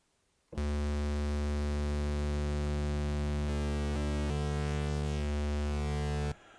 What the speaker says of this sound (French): Donc ici, mon oscillateur 3 sort en audio puisque je l'entends.